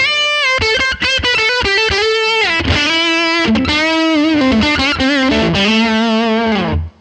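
Heavily distorted electric guitar through a Line 6 Helix Legacy Tube Comp effect plays chords and sustained notes, loud and continuous, with a thick, compressed, saturated tone throughout.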